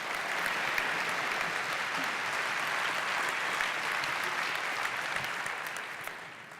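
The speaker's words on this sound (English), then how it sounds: "So another round of applause, Dr. Amen." An audience at a Daniel Plan health rally in a church gives a sustained round of applause, a thick, even roar of many clapping hands that holds steady and fades slightly at the end.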